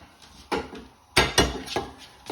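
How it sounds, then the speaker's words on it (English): Garlic being crushed in a kitchen with a few sharp knocks and thuds, roughly five distinct impacts close up, two louder blows near the middle. "So we're going to crush our garlic."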